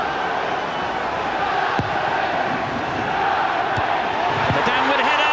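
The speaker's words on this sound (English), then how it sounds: "All the crowd seemed to be shouting handball as Dwight York headed it into the 6-yard box." Football stadium crowd at a 1999/2000 Premier League match between Manchester United and Arsenal, roaring and shouting for a handball, loud and continuous with sharp thuds on top.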